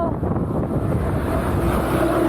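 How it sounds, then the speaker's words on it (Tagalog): Strong wind buffets and roars across the microphone during a road bike ride, a loud continuous rushing with no voices. "Ang lakas ng hangin dito."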